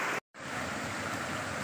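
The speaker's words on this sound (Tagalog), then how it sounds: "Ito po yung tinatawag nilang Calao Falls dito sa may San Jose, Mayantok." Calao Falls in Mayantoc, San Jose, pours as a loud, continuous rush of falling water, close and unbroken apart from a brief cut near the start.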